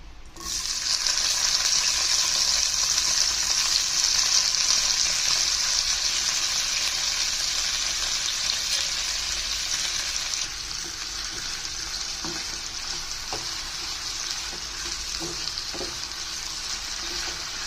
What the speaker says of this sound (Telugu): అదే నూనెగా అదే విధంగా వంకాయ ముక్కలు వేస్తున్నాం